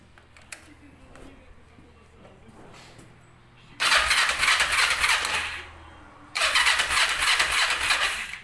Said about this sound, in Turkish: Şöyle bir ön izleme olarak bir marş yapalım.